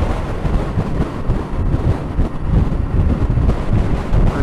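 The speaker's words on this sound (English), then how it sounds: "Well, the wind is blowing us. Fairish. Side wind." Strong gusting side wind buffets a Yamaha Tenere 700 motorcycle on a road in the Welsh hills, a loud, continuous low roar of wind rushing over the rider's microphone with no speech.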